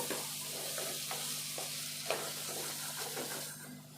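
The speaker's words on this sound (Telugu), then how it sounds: "ఇదంతా కలుపుకోవాలి ఒకసారి" A spoon stirs chana dal tomato curry in a pan, soft scraping strokes repeating over a quiet, steady simmering sizzle close by.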